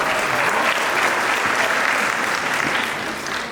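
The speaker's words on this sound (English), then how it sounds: "we're also going to give a big round of applause to that for 10 years" Dense, sustained applause from a fashion week crowd fills the room in a steady roar of many hands, holding strong before easing slightly near the end.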